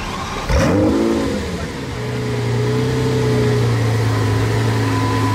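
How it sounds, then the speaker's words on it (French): A Lamborghini Aventador SVJ engine while parallel parking between two motorcycles on a Paris street: a sharp revving blip up close, dropping into a deep, steady idle rumble that holds to the end. "Pas facile, un créneau en Aventador SVJ entre ces deux motos."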